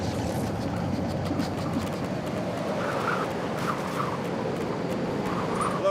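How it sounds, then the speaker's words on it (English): A moving train in the Lego Incredibles video game rumbles steadily, a continuous rolling roar with faint higher rattles mixed in and no speech. "You'll never stop this train."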